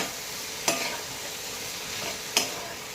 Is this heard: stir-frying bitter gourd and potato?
yes